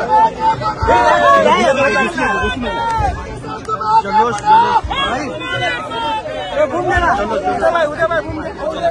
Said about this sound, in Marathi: राज्यभर मराठा आंदोलक आणि मराठा समाज जल्लोष साजरा करतोय